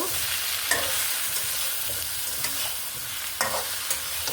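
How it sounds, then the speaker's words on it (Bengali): Food frying in a pan with turmeric and salt is stirred, giving a steady close sizzle broken by a few sharp scrapes and clicks of the spoon against the pan. "লবণ আর একটু নেড়ে নেব"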